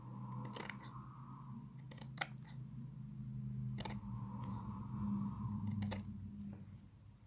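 Scissors snip away excess fabric while trimming a rounded edge on a craft capsule, a few sharp close cuts spaced irregularly over a quiet background hum.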